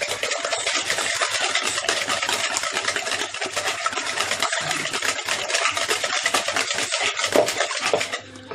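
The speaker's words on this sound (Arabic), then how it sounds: "غادي نطربهم مزيان" Cake batter beaten by hand in a bowl without a mixer, giving a steady, rapid, close scraping and slapping rhythm that runs continuously for several seconds.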